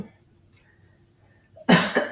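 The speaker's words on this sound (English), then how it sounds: "That wasn't really a cough. That was just a clearing." After a quiet stretch, a sudden, loud throat clearing rasps up close, a short rough burst with a brief second push.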